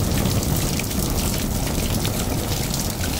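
Steady rain pours over a town street in Aguada in the evening, a dense, even hiss of water on surfaces that holds at the same loudness throughout with no voices.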